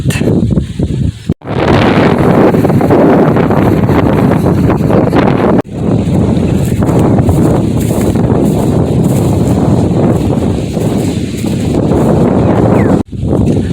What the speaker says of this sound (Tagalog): Medyo malakas ang hangin, hindi masyadong ramdam yung init.